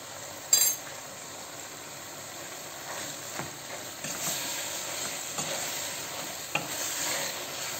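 Green beans sauté in oil in a pot at a home stove, giving a soft steady sizzle with occasional stirring scrapes and a sharp clatter near the start, fairly quiet and close with no talking.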